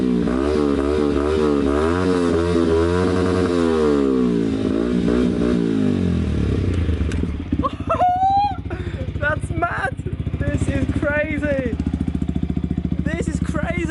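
A Yamaha YZF R125 motorcycle with a Scorpion exhaust runs close by, a loud throbbing idle with rising and falling rev sweeps, then a steadier rumble. Excited voices talk over it.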